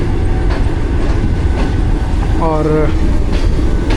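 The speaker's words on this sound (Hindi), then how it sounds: "अब आ रही है जी थ्रू, जो ओवरटेक करेगी और हमारे साथ क्रॉस होगा सिस्टर ट्रेन का" Passenger train passing on Pakistan's railway, a loud continuous rumble and clatter of wheels heard up close, with a brief tonal squeal partway through; a voice speaks briefly.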